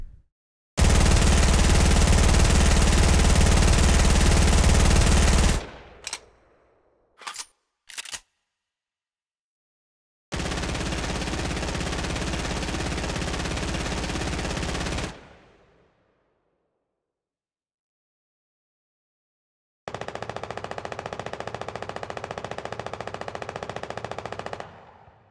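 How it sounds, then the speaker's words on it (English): Video game gunshot effects in a Fortnite-style shooter built in Unreal Engine: a loud sustained burst of rapid fire, a few short single shots, then two more long bursts, each quieter and thinner, as if heard from farther away. "you will actually hear different sound effects for gunshots depending on how close or how far away you are from another player"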